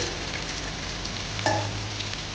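Chopped tomatoes drop into a pan of frying village-style chicken curry, giving a steady close sizzle with a brief louder hiss and spatter as they hit the oil.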